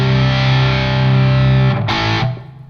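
Electric guitar played through a KOR distortion pedal, giving a harmonically rich, mid-focused drive instead of full saturation; a loud sustained chord rings for about two seconds, then a brief scrape, and the chord fades away.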